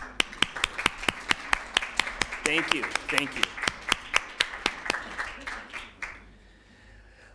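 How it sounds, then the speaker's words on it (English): A small indoor audience at a talk on dementia caregiving claps, with crisp, distinct, evenly spaced handclaps close by that thicken briefly and then fade out. A voice speaks over the middle of it. "I'd like to just applaud you for all that you do"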